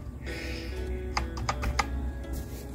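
Computer keyboard keys are pressed one after another during a key test after cleaning, a handful of crisp, distinct clicks in an irregular rhythm, close and clear over a low background hum.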